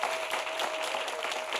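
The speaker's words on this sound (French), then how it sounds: "qu'on applaudit très fort" A studio audience applauds steadily for arriving talk-show guests, a dense, even wash of clapping at moderate volume with no gaps.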